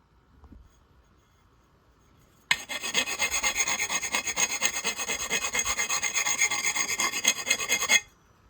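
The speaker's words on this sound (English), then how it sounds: "And then I'll hit the outside with the file." A hand file rasps steadily across the metal edge of a Weber kettle grill leg, rapid rhythmic strokes for several seconds after a quiet start, then stopping abruptly.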